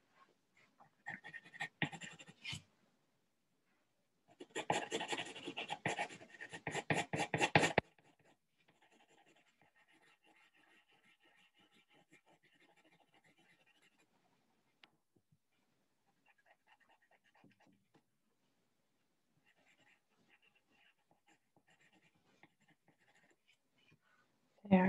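A pencil and eraser rub on paper while sketching the Razor Crest spaceship, with two louder bursts of scratchy scrubbing early on, then faint, sparse scratching strokes trailing off into near silence.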